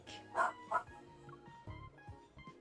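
A dog barks twice in quick, sharp yaps, followed by a few quieter yips and whimpers; the sounds are moderately close with no talking.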